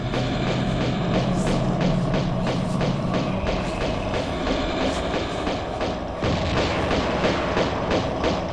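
An enemy's gunshots crack repeatedly in Tomb Raider, a loud, steady run of evenly spaced shots over a dense, rumbling layer of game sound.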